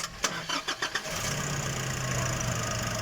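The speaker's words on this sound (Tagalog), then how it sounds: "So start natin yung makina." A Nissan NV350 Urvan diesel van with a turbo actuator low-power fault (P0234) cranks with a rapid rhythmic churn for about a second, then catches and settles into a steady close idle.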